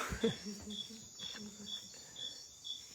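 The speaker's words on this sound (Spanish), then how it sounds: "grillo." A cricket chirps in a steady, evenly spaced series of faint high pulses over low background noise and murmur.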